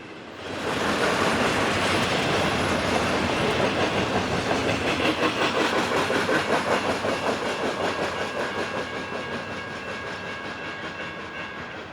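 A freight garbage train on the Seattle Subdivision rumbles past close by, its wheels clacking rhythmically over the rails in a loud, continuous roar that slowly fades.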